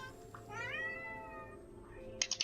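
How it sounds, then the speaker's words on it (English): A cat gives one long, drawn-out meow, fairly close and loud over a quiet room, followed by a few short clicks and rustles. "That was a very loud cat."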